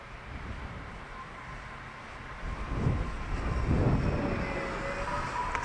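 An AtomRC Beluga radio-controlled model plane flies in gusty wind, its electric motor giving a steady buzzing drone that swells and then eases as it passes, with wind noise throughout.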